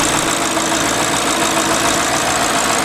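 A 2013 Audi RS5 engine idles steadily up close, a continuous even rumble with a faint mechanical ticking and no voices.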